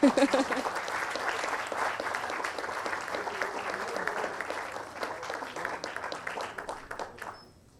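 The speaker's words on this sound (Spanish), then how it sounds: "Ahora se puede aplaudir, por si acaso." An audience at a panel event applauds as a small award is handed out: many hands clap together, strongest at the start, then the applause thins into scattered claps and fades out, with voices mixed in.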